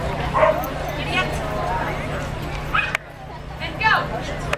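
Small dogs bark and yip repeatedly at an outdoor race, short bursts scattered over a steady background hum, with people talking throughout.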